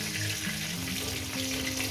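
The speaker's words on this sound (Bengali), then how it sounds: "এই মাছগুলো এইভাবেই ভেজে নেব" Fish frying in hot oil in a pan for a fish curry: a continuous, close crackling sizzle with steady hiss, no voices.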